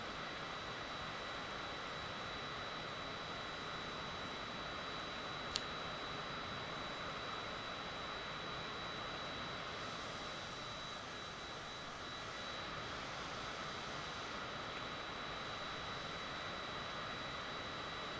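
A jet airliner's engines in Microsoft Flight Simulator 2020, flying toward Mount Everest, make a steady, unbroken broadband roar that holds at an even level throughout, with no talking.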